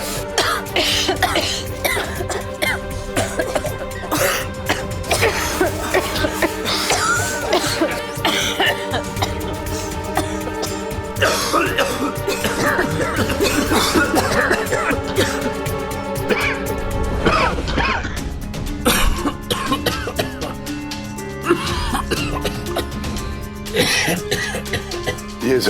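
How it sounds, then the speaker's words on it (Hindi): Repeated coughing and throat clearing in a staged devotional drama scene, set over a dense, continuous bed of music and background sound. "ये जरूर साईं के खांसने की आवाज है।"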